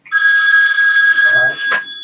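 A mobile phone rings loudly and close with a sustained electronic trill lasting about a second and a half, then a voice briefly speaks as the tone is cut short.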